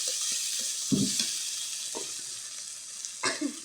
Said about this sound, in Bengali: এখন দিয়ে দিলাম এই যে রসুন বাটা। আর একটু সুন্দর করে ভাজে নিব।